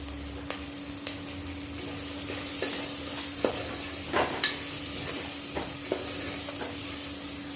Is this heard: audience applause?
no